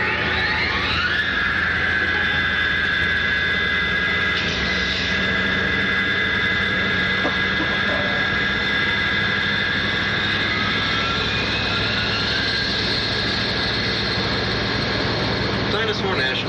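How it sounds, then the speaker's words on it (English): Tour tram engine running at Dinosaur National Monument, a continuous mid-level droning hum with a steady whine that holds for the whole stretch. "Start the engine, my friend."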